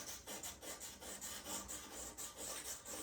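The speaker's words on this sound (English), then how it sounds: "take a piece of 400 grit sandpaper and just lightly go over those edges to smooth them out" 400 grit sandpaper rubbed lightly over the edges of a rifle stock, a soft rhythmic rasping in repeated back-and-forth strokes, close and quiet with no talk.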